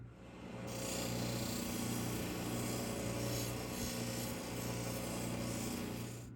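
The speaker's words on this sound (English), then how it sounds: "I'm all finished with the 600 grit soft diamond wheel" A crazy lace stone cabochon worked on a 600 grit soft diamond polishing wheel makes a steady raspy rubbing drone over a low motor hum, close and continuous with no voices.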